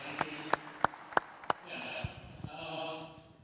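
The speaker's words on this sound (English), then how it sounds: "let's actually welcome Mr. CZ with a warm round of applause, ladies and gentlemen" Brief clapping from a conference audience welcoming a speaker at a blockchain week event in Dubai: a few sharp, scattered claps, then giving way to murmuring and room noise.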